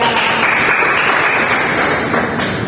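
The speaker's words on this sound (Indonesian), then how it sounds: "Tepuk tangan untuk Ada." A classroom group claps together in a dense, steady burst of applause lasting a few seconds, with no talking.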